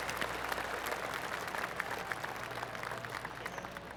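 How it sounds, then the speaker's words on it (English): Steady crowd applause in the PGA Tour 2K25 golf video game, with a dense patter of many hands clapping and no voices, holding at an even level for about four seconds. "That deserves a golf clap."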